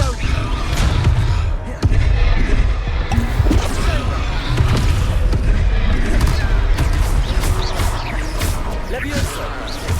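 The Confringo blasting spell in the Hogwarts Legacy video game: loud booming impacts and crashes during a spell duel, with combat effects and voices over a constant busy backdrop.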